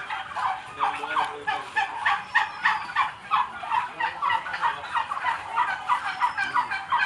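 A flock of turkeys on a farm gobbles continuously, with many overlapping rapid warbling calls near and loud in a steady chorus.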